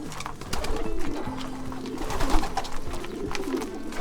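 Long-distance racing pigeons of a Janssen-refreshed line coo in low, rolling bursts that run together, over a busy loft with steady background rustle and flutter.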